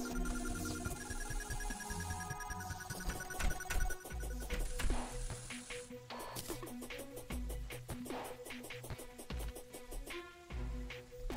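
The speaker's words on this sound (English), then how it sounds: "Cellular phone." Cell phone ringtone with a bright, repeating electronic melody that plays continuously and fairly loud for around eleven seconds, layered with other musical game tones, with no speech.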